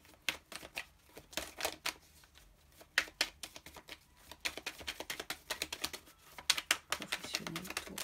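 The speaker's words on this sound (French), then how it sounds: "J'attends juste de tirer toutes les cartes pour vous dire." Tarot cards being drawn, shuffled and laid down on a table, heard as many close, quick papery flicks and taps in irregular bursts, with a faint voice in the background.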